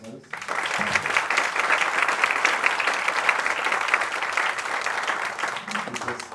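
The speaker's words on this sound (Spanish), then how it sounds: "Yo también quisiera pedir un aplauso al líder del equipo" Loud, sustained audience applause at a certification ceremony and astronomy forum, starting abruptly and continuing as dense, even clapping for several seconds before tapering off.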